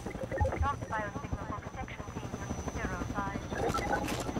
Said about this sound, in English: it's the helicopter